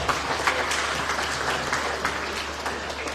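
A dense, steady round of audience applause at an iftar gathering during a Ramadan talk, continuous and fairly loud throughout with no pauses.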